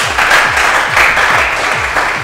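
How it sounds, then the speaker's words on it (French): Loud audience applause in a studio at a televised game show in Lubumbashi, dense rhythmic clapping sustained throughout, close and strong. "Merci de l'applaudir"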